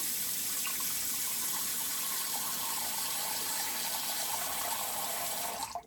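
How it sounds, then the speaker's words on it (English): Tap water gushes steadily into a sink, a constant splashing rush that stops abruptly at the end. "I'll throw a little water in the sink here."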